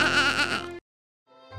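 A cartoon sheep bleats loudly in one long, wavering call, then after a brief silence begins a second bleat.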